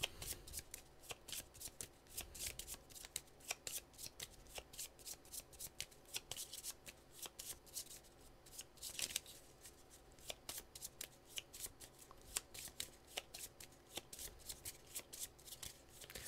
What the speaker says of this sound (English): We're going to shuffle this up.